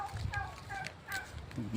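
Turkeys gobble in a few short bursts nearby, with soft background noise and faint voices.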